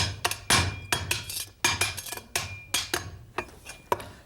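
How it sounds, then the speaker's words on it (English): A chef's knife slices vegetables at a slanted angle on a cutting board, making a quick, uneven run of sharp close chops with no talking, in a vegetarian Chinese cooking setting. "you cut it at a slanted angle"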